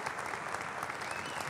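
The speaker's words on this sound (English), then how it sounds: "A round of applause for Ed Skoudis, please." A short burst of steady audience applause at Wild West Hackin' Fest after a talk on penetration testing, a moderately loud and even patter of many hands.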